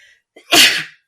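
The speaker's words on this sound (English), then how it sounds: "excuse me, bless you, remnants of the flu" A single loud, close sneeze from someone recovering from the flu, a short intake followed by a sharp explosive burst that fades within half a second.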